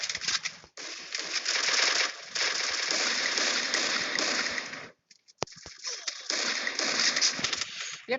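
Video game gunfire rattles in dense rapid automatic bursts, loud and sustained with a short pause partway before firing resumes in further quick volleys.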